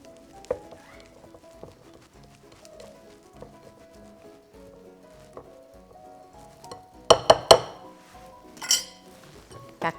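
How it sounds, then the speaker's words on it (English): A spatula scrapes around a mixing bowl of cheesecake batter, producing soft scrapes and a few sharp clinks against the bowl, close and otherwise quiet. "We're going to give that a bit of a scrape down."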